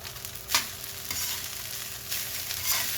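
A spatula stirs fried rice in a pan, scraping and tossing it over a steady low sizzle, with a few sharper scrapes standing out; no one speaks.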